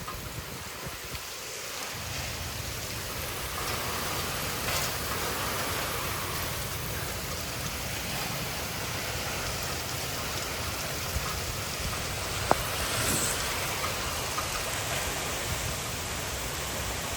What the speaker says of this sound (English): You can see the rain kind of blowing sideways.